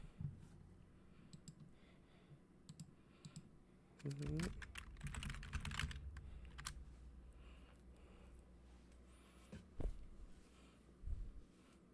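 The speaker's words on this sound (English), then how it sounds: "So I just type that in for you." Someone types on a computer keyboard in a quiet room, giving quick bursts of clicky key presses, with a louder cluster of rapid clatter partway through and scattered taps afterward.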